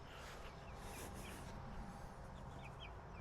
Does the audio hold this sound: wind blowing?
no